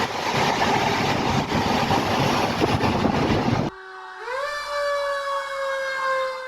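A rail-going fire engine travels along the tracks, a loud broadband rumble that cuts off abruptly and gives way to a clear wailing siren rising in pitch and holding steady.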